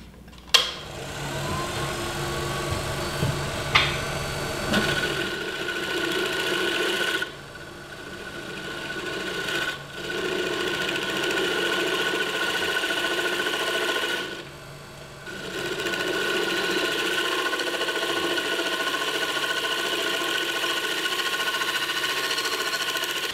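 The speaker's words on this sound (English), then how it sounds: "I'm just going to take the bowl gouge here and shape this side of it" A wood lathe spins an off-center wooden pendant while a bowl gouge shapes one side, giving a steady loud whirring hum with scraping cutting noise, broken by a few brief pauses as the tool lifts away.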